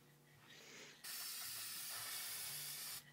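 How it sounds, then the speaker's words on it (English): A spray paint can's valve being cleared, a sharp steady hiss of escaping spray that starts abruptly after a softer lead-in, holds loud and even for two seconds, then cuts off, in a quiet workshop near a Briggs and Stratton engine. "Oh, I gotta clean out this valve in this spray paint can."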